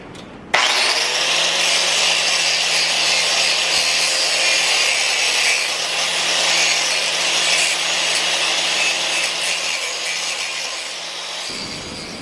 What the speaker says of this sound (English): Now we're going to grind it out and make it look like a spike.